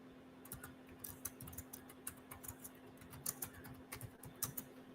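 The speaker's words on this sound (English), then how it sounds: "I want y'all to see what I'm typing." Steady computer keyboard typing, a quick run of light clicky keystrokes close by and quiet over a faint electrical hum.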